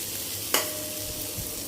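Leftover roti cut into noodles being tossed with chili flakes, mango powder, black salt and coriander powder in a pan, two quick scraping stirs over a soft steady sizzle.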